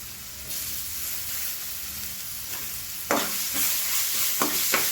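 Grated raw mango stirred and frying in a pan for mango pulihora, with a strong continuous sizzle hiss and a few sharp spatula scrapes in the second half, close and fairly loud.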